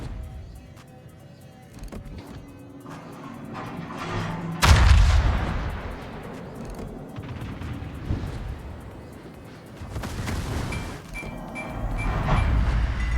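Yamato battleship salvos in World of Warships boom out, one sharp heavy blast standing out mid-clip among rumbling gunfire and distant impacts over a low continuous hum.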